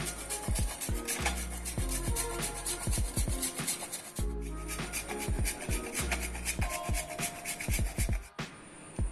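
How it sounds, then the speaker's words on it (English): A paneer cheese block is grated onto a roll of cabbage, carrot and onion in a kitchen, making repeated rhythmic rasping strokes with sharp scraping bursts and brief pauses between passes. "Take a cheese block and grate onto this."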